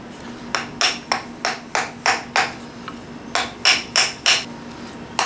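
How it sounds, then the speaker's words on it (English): A hammer strikes the end of a Japanese chisel's wooden handle over and over to mushroom the fibers, landing a dozen sharp, close, loud taps in quick bursts with a short pause in the middle. "you can use kind of the edge of your hammer here, just kind of break up those fibers to get a good mushroom going"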